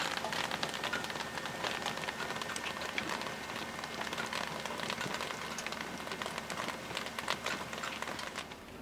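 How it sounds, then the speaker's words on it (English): Steady rain patters down on a camp in the woods in Idaho, beside a travel trailer. The dense, even hiss of drops on surfaces runs throughout at a constant level, with no voices. "the thunderstorms did indeed arrive. You might have just heard some thunder right now."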